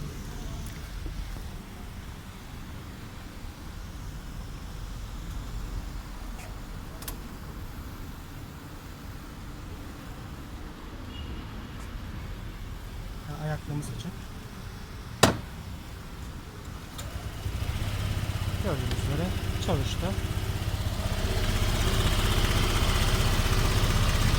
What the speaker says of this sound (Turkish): Bir çalıştıralım, bir marş oluyor mu bir bakalım.